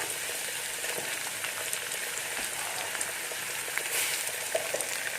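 Onions frying in a pan for an Assamese breakfast dish, a steady close sizzle and crackle with faint scattered pops running throughout, no talking.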